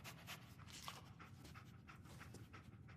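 Dogmeat, the dog companion in Fallout 4, pants in quick, even breaths that stay faint but steady throughout, with no voices present.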